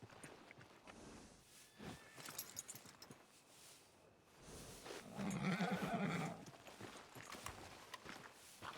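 A horse in Red Dead Redemption 2 whinnies loudly in the middle of the clip, surrounded by soft clip-clop hoofbeats and footsteps over a quiet outdoor backdrop.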